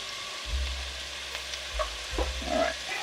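Onion dropped into hot olive oil in a pot, giving a steady close sizzle with a few stirring scrapes and low bumps.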